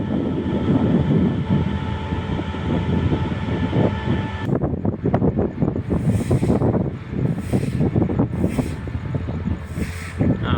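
Thai passenger train number 921 pulling out on its last run of 2023, a loud steady rumble and clatter of wheels on rail with wind buffeting the microphone, continuous throughout.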